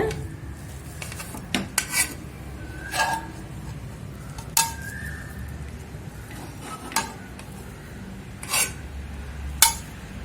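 Cooked urad dal rice stirred in a pot: a spoon knocks and clinks against the metal vessel in scattered single strikes with quiet pauses between them, close by, over a low hum.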